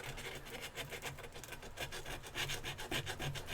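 Sandpaper rubs back and forth on a Pocket Javelin knife handle during a marbled brushed-finish build, a rhythmic, close scratching of steady strokes with no speech.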